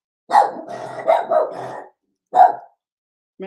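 A dog barks several times close by, a quick cluster of barks followed by a pause and a single bark, then the start of another.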